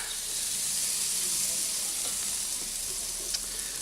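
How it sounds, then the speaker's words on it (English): Harissa chicken sears straight over the heat on a barbecue grill, making a steady, close hissing sizzle with faint crackles and no talking. "straight over the heat just for the time being, just for right now. Get a sear on them"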